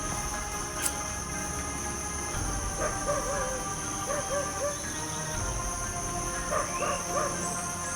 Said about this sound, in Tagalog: may tumatahol na aso na